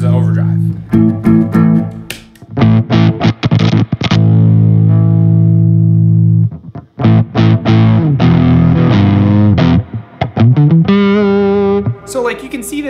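An electric guitar played through an Earthquaker Devices Palisades overdrive pedal gives loud, crunchy driven chords and single notes with sustained ringing tails, and someone talks briefly between the phrases.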